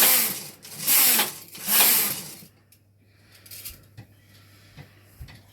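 A Silver 840 knitting machine working stocking stitch: two loud rasping carriage sweeps back and forth, then quieter clicks and small knocks against a low steady hum.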